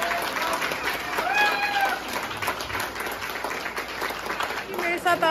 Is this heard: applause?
yes